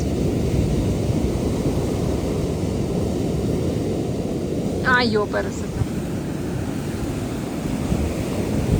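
Steady roar of ocean surf and wind on a Pacific beach near San Francisco, close and loud throughout, with a brief voice calling out midway.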